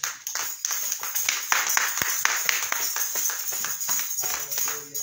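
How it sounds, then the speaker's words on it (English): Scattered clapping from a church congregation as a woman walks up to the front, a steady patter of hands at moderate distance with brief voices mixed in. "Let's give her a hand clap as she comes."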